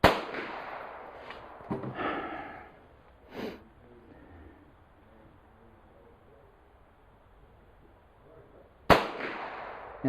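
Winchester PowerPoint .22 LR rounds are fired during an ammunition test, giving a few sharp, cracking reports spaced seconds apart with quiet between them.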